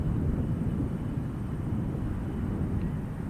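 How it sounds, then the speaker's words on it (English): Airplane arriving during plane spotting, a constant low rumbling engine roar filling the background, steady and fairly loud with no voices. "So we have a few aircraft on the way in, as well as our final few from Australia."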